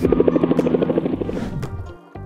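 A helicopter passes close by, its rotor producing a rapid, loud chopping pulse that fades slightly before a short drop near the end.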